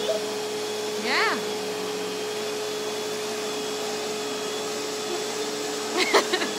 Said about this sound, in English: finish vacuuming.